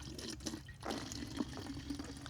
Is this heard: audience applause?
no